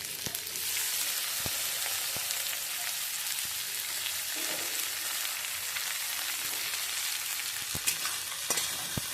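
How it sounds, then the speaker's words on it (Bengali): Chopped capsicum is being stir-fried lightly in a pan for masala egg chicken rice: a steady soft sizzle broken by a few sharp clicks of the spatula against the pan. "ক্যাপসিকাম কুচিগুলো। এটা বেশি ভাজতে হবে না, হালকা নেড়ে চেড়ে"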